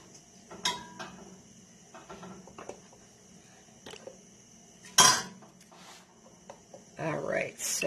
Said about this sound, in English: I'm going to get, I think, my small jar out of the oven. Move a couple pieces around here.